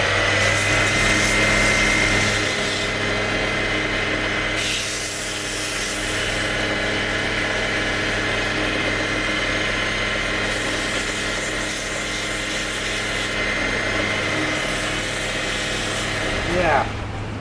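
A wood lathe spins a turned wooden tool handle during sanding, giving a steady, loud, close whirring drone with a brief pitch swell near the end.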